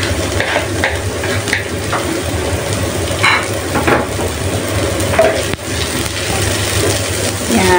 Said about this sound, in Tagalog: Ngayon is lalagay ko na yung ating onion.